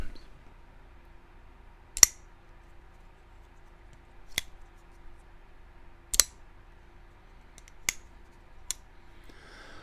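A few sharp metallic clicks from a folding pocketknife, spaced a second or two apart, each a crisp snap like a blade flicking open and locking, in a quiet room.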